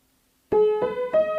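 Left-hand piano part of a song, three close, clear struck notes after a short silence, each ringing briefly into the next.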